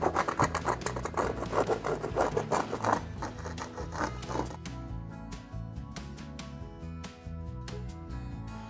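Pen or marker scratching across fabric while tracing a circle around a baking pan for a homemade face mask, a run of quick rhythmic strokes followed by slower, sparser scrapes, close and quiet.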